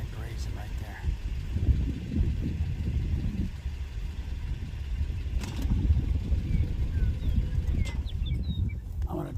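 A car engine idles steadily at a roadside in a wilderness park while animals graze nearby, a low continuous rumble with faint bird chirps above it.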